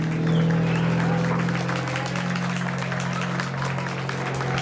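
Crowd applause at a youth sheep show class at the Lycoming County Fair, steady and dense throughout over a constant low hum from the arena's sound system.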